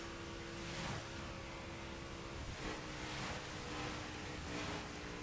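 Car engine droning steadily in The Crew racing game, a continuous mid-level hum with faint harmonic bands and no speech over it.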